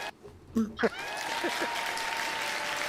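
Applause during a music live stream swells into a steady wash of clapping after a few short voice bursts, moderately loud and continuing to the end.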